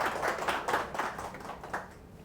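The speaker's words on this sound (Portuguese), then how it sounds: "vamos aplaudir fortemente." An audience at a travel agency event in Portugal claps for a standing senator, scattered hand claps forming a moderate, uneven applause that thins toward the end.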